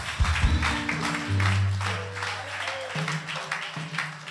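A church conference audience claps in a steady, rhythmic beat alongside sustained musical tones, the clapping moderately loud and continuing throughout.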